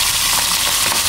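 Fish frying in a kawali pan, a dense, steady sizzle and crackle heard close and loud without a break.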